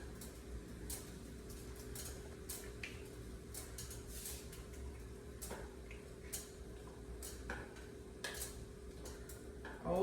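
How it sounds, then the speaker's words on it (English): A spoon clinks against a metal pot as about six eggs are lowered one by one into boiling water, faint scattered taps and knocks over a low bubbling hum. "once that water is up and boiling, I'm gonna start throwing in those eggs"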